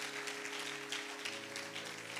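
A church congregation applauding during a French-language sermon, with a soft, steady patter of clapping at a distance under a sustained tonal drone.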